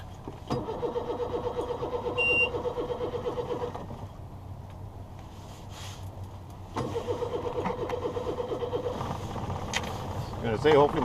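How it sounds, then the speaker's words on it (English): An engine cranks and catches at a lakeside launch, a mid-pitched motor churning in two long stretches separated by a quieter gap, close and steady, with faint clicks and some background noise. "I'm gonna say hopefully my boat starts."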